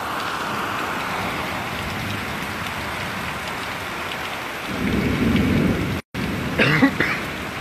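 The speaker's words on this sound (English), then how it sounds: "Nothing like the sound of thunder." Steady heavy rain hisses throughout a severe thunderstorm in South East Queensland while a deep roll of thunder swells in the second half, followed by a brief cut and some sharp crackles.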